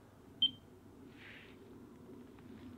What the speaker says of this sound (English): single beep on the middle rod